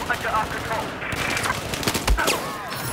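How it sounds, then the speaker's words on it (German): A burst of rapid gunfire in Battlefield 4 multiplayer, a crackling salvo of shots mixed with battle noise and a player voice talking over it. "irgendwie hat er jetzt nur eine Salve rausgeschossen"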